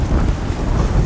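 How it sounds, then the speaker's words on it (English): Wind gusts buffet a microphone outdoors during a sunset livestream, a loud continuous low rumble of rushing air that swells and dips for about a second with no one talking. "Getting windy out here now very quickly."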